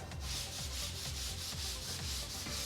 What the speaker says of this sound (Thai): ต้องให้ มีขนของแปลงที่แข็งๆเข้าไปช่วยขัดนิดนึงครับ